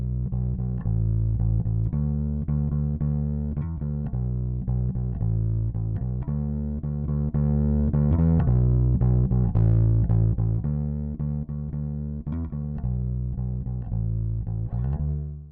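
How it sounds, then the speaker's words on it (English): Electric bass guitar with saturation, blended distortion and reverb, playing a continuous line of loud, gritty notes for the whole stretch, alone without voices. "I've added some saturation, but I've also sent the track to 2 aux tracks, one with more distortion on it and one with actually some reverb on it."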